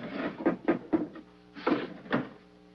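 A top drawer in a home slides and knocks in a run of short wooden thumps and rattles, three quick bumps then two more after a pause, close and fairly loud with no talking.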